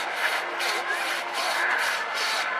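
Two people working a thick crosscut saw back and forth through a log at an outdoor steam and vintage show, producing a steady rhythmic rasping stroke roughly every half second, close and fairly loud.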